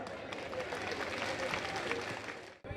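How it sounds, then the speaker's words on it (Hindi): A dense wash of clapping from a large audience at a Delhi community address by Chief Minister Arvind Kejriwal, steady and loud throughout before cutting off abruptly near the end. "कृपया अपने स्थान पर बैठकर ही जोरदार तालियां बजाएं।"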